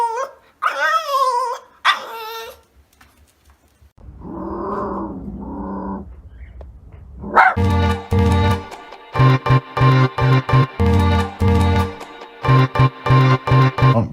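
A dog barks on command in a series of loud, close, rapid barks, preceded by a few whines and a longer whimpering vocalization, with short pauses between bursts.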